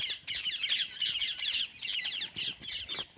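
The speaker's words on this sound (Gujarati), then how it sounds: "પોપટ બોલાય મિત્રો જો" A parrot squawks harshly and repeatedly near a bajra millet field, with a steady string of close, loud, shrill calls and barely any pause between them.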